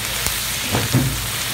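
Ground meat sautéing in a pan for a Kapampangan crab-in-coconut-milk dish, a loud, steady close-up sizzle with a couple of faint stirring bumps.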